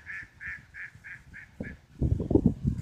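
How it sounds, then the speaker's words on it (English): A duck calls near a park pond with a run of six quick, evenly spaced quacks, followed by louder low rustling and thumping close by. "I'm spying on a duck."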